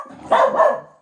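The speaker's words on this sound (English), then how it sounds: "I'm not really sure what they were barking at." A dog gives a single sharp, loud bark up close in a quiet indoor room, with a short two-part yelp shape that fades quickly.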